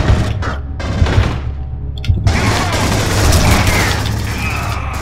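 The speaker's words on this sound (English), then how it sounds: "It's a grenade." Grenade blast in Aliens Colonial Marines amid heavy gunfire, a loud close boom followed by sustained dense shooting and rumbling battle noise, with no talking.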